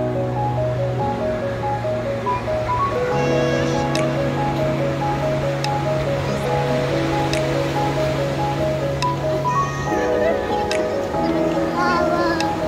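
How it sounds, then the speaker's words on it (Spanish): Waves of water wash in on the shore in a steady, continuous surf, with a voice and other speech over it. "Ahí viene el agua."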